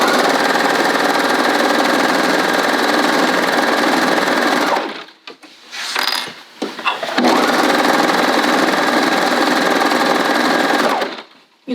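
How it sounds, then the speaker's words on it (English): A serger overlocker stitches a knit sweater seam, its motor whirring loud and steady for about five seconds, pausing with a few handling clicks, then running again in a long continuous buzz. "I'm going to take a serger the rest of the way down"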